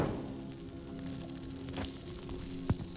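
Food cooking over a campfire in the survival video game 99 Nights in the Forest gives a steady, soft sizzle that runs throughout, with a faint thump near the end.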